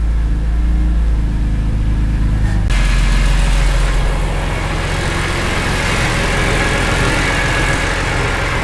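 BMW E46 M3 engine idling right after its first start, a loud, steady, close-up idle with deep low rumble; the tone shifts a few seconds in, then settles into an even idle.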